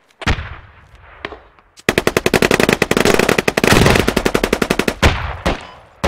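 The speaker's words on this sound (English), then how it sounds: "They're shooting at me." Gunfire in the video game Squad during a competitive match: a few isolated loud shots, then a long rapid automatic burst of sharp cracks, followed by several more single shots, all close and loud.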